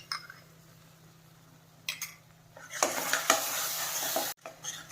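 Urad flour dough with cream and ghee being roasted in a pan for adadiya pak, with faint scraping at first, then louder stirring and sizzling that builds up and continues steadily with a few spoon clinks.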